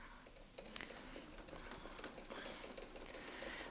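A domestic sewing machine with a ruler foot stitches a quilt at close range, giving a steady rapid mechanical whir with light clicking bursts that runs continuously for a few seconds and is not covered by any voice.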